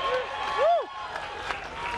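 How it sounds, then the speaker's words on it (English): Crowd applauding at the Chevy stage at Indianapolis Motor Speedway: a steady wash of clapping and crowd noise with a rising and falling whistle-like cry over it. "this is an awesome crowd"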